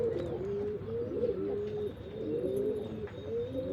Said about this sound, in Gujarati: અને ત્યારે આ બધા કબૂતર આપણે ખોલશું